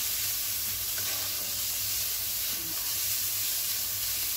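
Chopped vegetables with spring onion bases tossed and frying in a hot pan for soya vegetable rice, a steady close sizzle and hiss with faint stirring scrapes, no talk.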